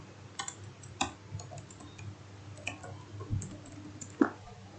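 Clicky keystrokes tapped on a computer keyboard while typing a reply in a client-server chat application, a sparse handful of close, sharp taps with no talking.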